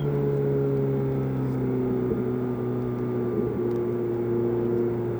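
Ferrari car engine held at a steady rumbling drone with a slight swell in pitch as it accelerates, heard close and continuous with no talk.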